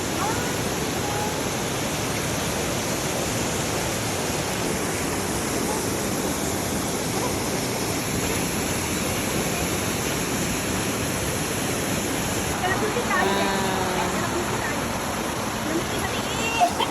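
A waterfall at Marilog roars as a dense, continuous rush of water from start to finish. Faint voices can be heard beneath it near the end.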